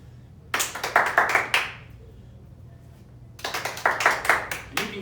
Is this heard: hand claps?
yes